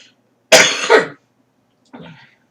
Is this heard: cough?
yes